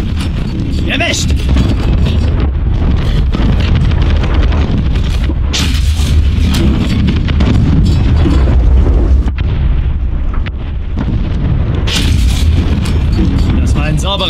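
Heavy booming cannon blasts from a Pz.Bef.Wg.IV J tank in War Thunder fire repeatedly over a loud, dense battle din, with a voice speaking over the action.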